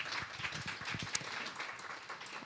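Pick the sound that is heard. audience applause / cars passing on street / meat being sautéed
audience applause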